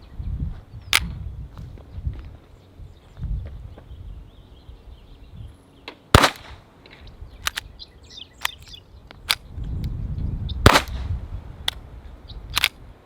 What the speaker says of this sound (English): here is my Ruger Mark III unsuppressed and then suppressed with a Dead Air Mask HD